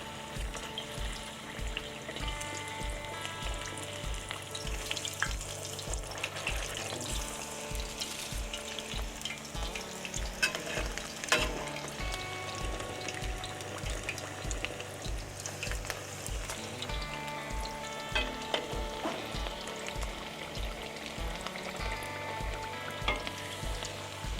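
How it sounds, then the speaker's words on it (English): Smashed burger patties frying in melted beef tallow at about 350 degrees Fahrenheit, a continuous close sizzle with rhythmic clinking and scraping layered over it, no voices heard. "Let's get these things in that oil. All right, melted beef tallow, about 350 degrees Fahrenheit."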